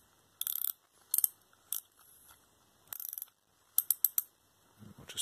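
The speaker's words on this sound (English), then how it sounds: "So you've got the front drag system here. I'll just demonstrate that. It's set quite tight at the moment. Just loosen it up." Front drag of a Lineaeffe Vigor Carp 40 freespool fishing reel being loosened: bursts of fast, close ratcheting clicks in separate turns, some short and some sharper, with a faint handling rustle at the end.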